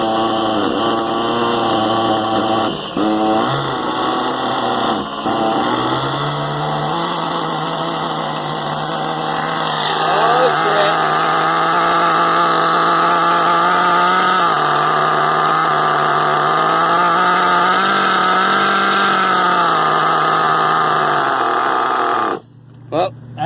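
A modified Novarossi Rex nitro engine with a non-stock carburetor runs close and loud at a high, buzzing idle, its pitch wavering and shifting as it is adjusted, then cutting out abruptly near the end.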